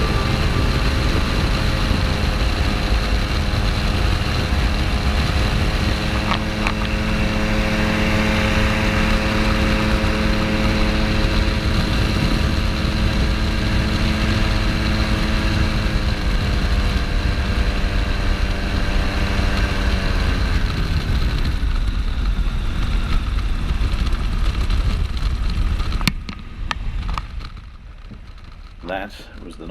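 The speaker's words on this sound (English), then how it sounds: "That was the noise of the engine just cutting out." A light aircraft's piston engine drones steadily and loudly in flight, its tone dipping before it cuts out abruptly, leaving near silence with faint rustles.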